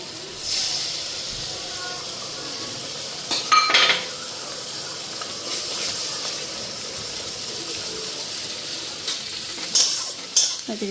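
Two eggs fry in a pan alongside lightly cooked potatoes, a steady crackling sizzle with occasional scrapes and metallic knocks of a spatula, and faint voices in the background.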